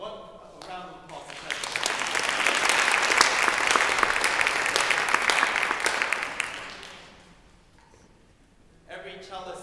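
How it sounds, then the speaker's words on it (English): Audience applause at a cello congress concert, a dense sustained clapping that swells and holds for several seconds, then fades out as a voice begins speaking. "So what a round of applause."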